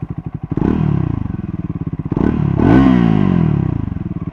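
A Triumph Scrambler 400X single-cylinder motorcycle engine idles with a steady thumping pulse, then revs up twice in short blips, close and loud.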